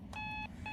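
Electronic alarm clock beeping inside a horror video game, two steady tonal bursts with a short gap between them, clear over a low rumbling background.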